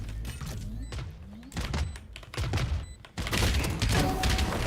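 Missile barrage in the Valorant shooter, a dense run of booming thumps and blasts, loud and close, layered over continuous game noise with a quick burst of shots near the end.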